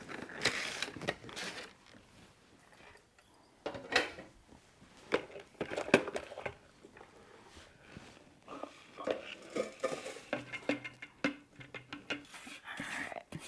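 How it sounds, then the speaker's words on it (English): Crumb crust tipped into a standard springform pan for a pumpkin cheesecake, giving soft, scattered crunchy rustles and light scraping taps, fairly quiet and close. "we're gonna dump our crust into there"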